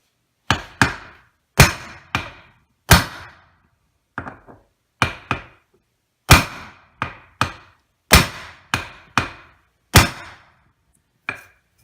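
Sharp, ringing blows from a big hammer strike a 33 mm axle nut while replacing a U-joint on a C4 Corvette, about fifteen loud metallic hits at an uneven pace with silence between them.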